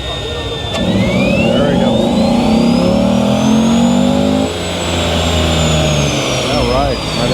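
A newer SS Camaro engine revs hard on a dyno at a Summit Motorsports Park event, a loud rising wail climbing toward 7,000 RPM, then holding and easing off, with a person speaking briefly over it.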